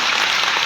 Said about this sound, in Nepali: अझै पनि ताली बजाउनु ईश्वरमा।